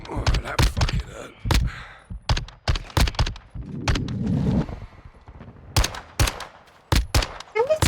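Call of Duty MWII gunfire from an MX9 SMG, short sharp bursts and single cracks scattered irregularly throughout, with brief pauses and a rumbling background passage between shots.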